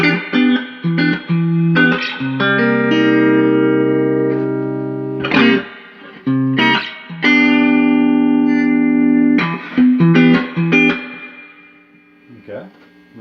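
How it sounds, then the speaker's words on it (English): An electric guitar plays through a vintage Yamaha G50 210 amp with its reverb on, giving sustained chords and picked notes that ring out and decay with a wash of reverb between phrases. "Okay, reverb works."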